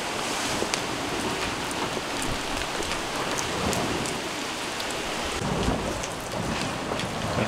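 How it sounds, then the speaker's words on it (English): Steady rain hisses onto a sailboat at sea mid-Atlantic, a dense continuous wash with scattered sharper drop impacts, close and moderately loud throughout with no voices. "It is raining."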